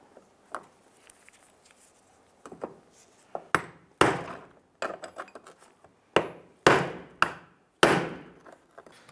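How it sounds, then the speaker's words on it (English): A brass punch struck with a hammer taps on the fuel pump lock ring of a 2004-2012 Chevrolet Colorado tank, turning it counterclockwise. Sharp metallic knocks come alone, starting light and sparse and then growing into louder, regularly spaced blows. "using a brass punch and a hammer, we're gonna go ahead and spin this lock ring counterclockwise"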